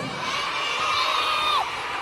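Children in the audience of a dinosaur-themed kids' musical cheer and shout together in a bright, sustained burst of excited voices lasting a couple of seconds.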